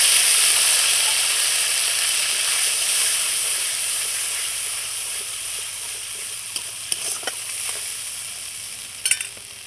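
Ginger, cumin and dried chili paste hits hot oil and sizzles in a loud, steady hiss that gradually softens, with a few brief scrapes of a stirring spoon near the end.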